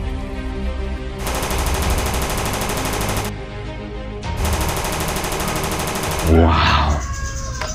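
A toy AK-47 rifle fires two long, loud bursts of rapid electronic rattling, each lasting a couple of seconds with a short pause between them. A different thump and whirring sound follows at the end.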